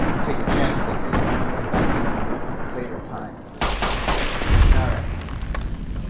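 A steady barrage of gunshots fired at a worker ant inside a building in Fallout New Vegas, continuous and loud with a heavier burst partway through.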